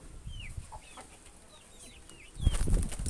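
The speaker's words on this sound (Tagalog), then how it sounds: "Isang rooster at saka isang hen." Rooster and hen chickens clucking and chirping in short rising calls close by, scattered across a few seconds, with a louder rustling burst near the end.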